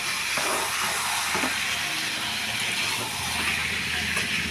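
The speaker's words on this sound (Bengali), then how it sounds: "আলুটাকে ভাজা আলুটাকে ছেড়ে দিলাম মশলার মধ্যে।" Fried potatoes drop into hot spice masala and sizzle with a loud continuous hiss, close up and steady, with no talking.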